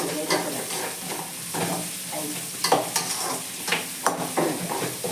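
Food sizzles and fries in a pan at home, a steady crackling hiss broken by repeated scraping stirs of a spoon against the pan, close and moderately loud.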